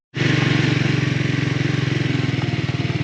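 A Scrambler 400X motorcycle engine starts abruptly and runs loud and close with a steady, throbbing pulse, on a mountain canyon road in Utah.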